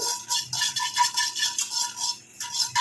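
Ingredients dry-roasting in an iron kadai over a low flame, stirred with rhythmic metallic scrapes and light rattles, close and moderately loud with no voices.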